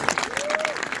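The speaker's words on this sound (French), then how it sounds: "j'aimerais bien qu'on les remercie en les applaudissant" Brief crowd applause at a hospital defense demonstration in Guingamp, a short burst of outdoor clapping with a faint voice or whistle tone running through it.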